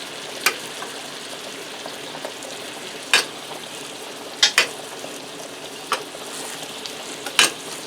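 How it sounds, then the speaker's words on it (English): Garlic butter spooned over pork chops in a hot pan gives a steady sizzle, broken by several sharp metallic clinks of the spoon against the pan. "take some of this butter and we're going to spoon this up over the chops"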